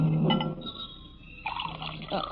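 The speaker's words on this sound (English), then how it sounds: "I'm just pouring myself a drink." Liquid poured into a glass in a quiet room, a short trickling splash with a faint clink, followed by a brief burst of gurgling; a voice speaks softly near the start.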